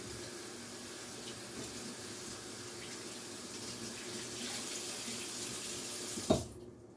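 Hands being rinsed under a running kitchen tap, a steady close wash of water over the sink that continues throughout, then a sharp knock and the flow cutting off near the end.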